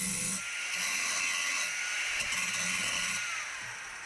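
A ToughGrit diamond blade cuts through galvanized steel pipe, giving a steady high-pitched grinding hiss that runs for about four seconds and eases off at the end, with no talking.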